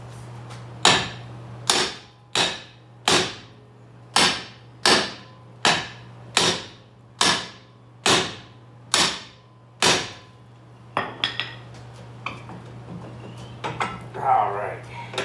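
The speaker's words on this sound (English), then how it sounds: "These drums do not like to come off easily. Just gonna hit it back and forth" A hammer strikes a stuck brake drum on a Chevy S10 about a dozen times in a steady rhythm, each blow a sharp, loud metallic clang, followed by quieter clatter and handling.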